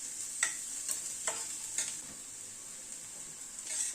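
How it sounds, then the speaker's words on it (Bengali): Onion, garlic and green chili stirred in a frying pan, a soft steady sizzle marked by about seven light scraping strokes of a spatula, close and fairly quiet, with no voices. "পেঁয়াজ পেঁয়াজ রসুন কাঁচা লঙ্কাকে তিনটেকেই আরো মিনিট খানেক একটু নাড়াচাড়া করে নিলাম"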